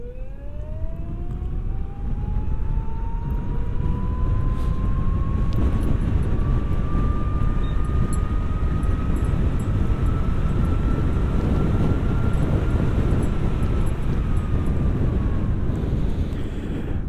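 A Hero Vida VX2 Plus electric scooter in sport mode accelerates at full throttle, its motor whine rising steadily in pitch and then leveling off, under heavy, continuous wind rush buffeting the microphone.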